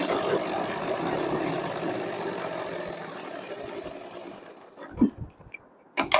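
A sewing machine steadily stitching a fabric strip for a small doll dress, its fast whirring run fading out near the end, followed by a few handling clicks and rustles.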